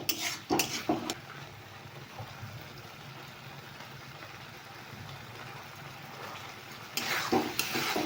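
Dal being tempered in a pan on a home kitchen stove, a low continuous frying hiss with louder clatter and stirring bursts at the start and end, no voices.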